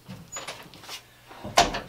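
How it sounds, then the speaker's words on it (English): A cabinet door on a rack unit swings shut without slamming, giving a single firm knock near the end after some quieter handling sounds, close by. "Close the door"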